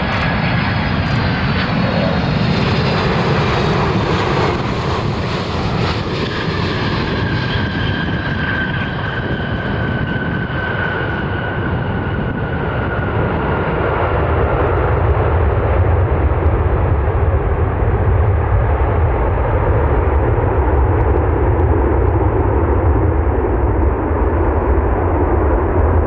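An American Airlines Boeing 737 jet arriving inbound, its engine roar loud and continuous throughout, with a whine fading as the rumble holds steady and broad.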